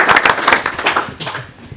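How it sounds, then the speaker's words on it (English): A brief burst of clapping from an audience at an academic announcement event at Wolfson College, Oxford, thinning out toward the end. "I think we get a round of applause for"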